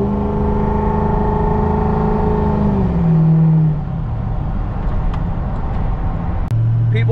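A 2005 Ford F350 with a 6.0 Powerstroke diesel drives along, its engine note holding steady and then dropping as it shifts down into a low, continuous rumble, with brief clicks and knocks over the drone.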